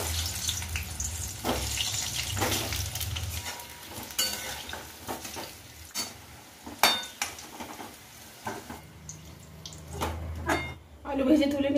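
Potatoes fry in hot oil in a kadai for aloo dum, a steady busy sizzle with clattering stirring and scraping knocks running throughout, close to the listener.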